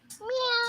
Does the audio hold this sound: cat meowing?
yes